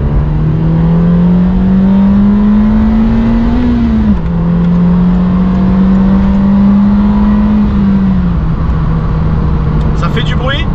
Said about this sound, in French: On va essayer l'accélération comme avant.